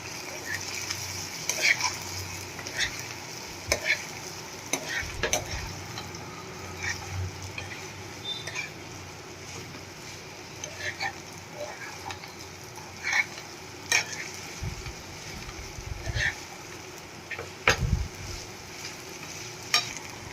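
Sabudana khichdi with peanuts and sugar is stirred in a hot pan, a soft sizzle under repeated scraping strokes and sharp spoon clicks against the metal, steady and close.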